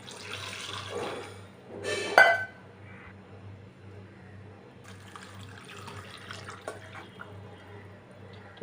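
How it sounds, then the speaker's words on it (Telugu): Two measures of water are poured into a pot of dal with bottle gourd, a short close splash and gush followed by quieter trickling and clinks against a low background hum. "ఇప్పుడు రెండు వాటర్ రెండు నాటాలు నీళ్ళు వేసుకుందాం"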